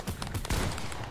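A quick rattle of several gunshots from Fortnite, two or three close, sharp bursts packed into about a second with no talking.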